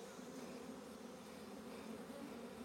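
Honeybees droning steadily at the front of a hive, a dense, continuous hum of many wings, close and fairly quiet, with no voices.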